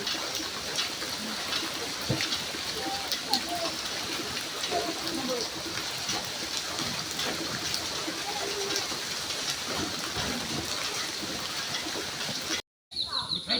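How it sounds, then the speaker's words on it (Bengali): Steady rain falls around a muddy house during a prolonged downpour, a dense, even hiss with scattered drops and patter filling the clip, close and constant, with a brief dropout near the end. "দেখেন বৃষ্টি পড়তেছে।"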